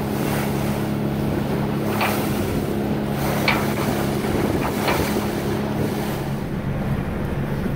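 A small river boat's engine drones steadily with a low, even hum on Lake Superior while wind rushes over the microphone and water slaps against the hull now and then.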